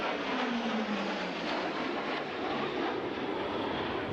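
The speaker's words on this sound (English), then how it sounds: "Low transition takeoff. I think you have to be an awesome pilot to be able to roll your plane with your landing gear still down just after you take off." A Blue Angels jet roars through a low transition takeoff, a loud broad rushing blast with a falling engine whine, continuous and without voices.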